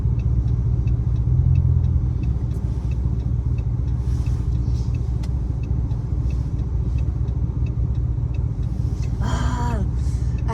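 Car driving home on a road, a steady low engine and tyre rumble from inside the cabin, continuous and even throughout, with a short higher chirping sound near the end.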